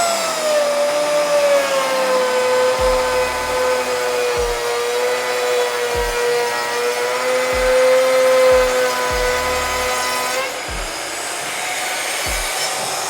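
Power tool cutting a rabbet into a clamped wood piece, a steady high motor whine with stable harmonics running throughout, with regular low knocks or thumps recurring every second or so.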